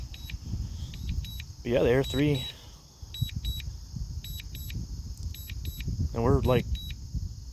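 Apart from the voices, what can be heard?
DJI Air 3 drone controller beeping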